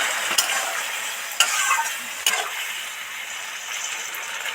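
Snake gourd fries in a pan with a soft steady sizzle, broken by a few sharp scraping stirs, as a small splash of water is added.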